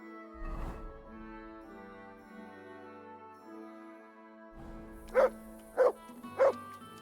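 Dog barking in the video game Kingdom Come: Deliverance 2: three short, loud barks in quick succession near the end, following a faint whimpering yip and over a steady musical score.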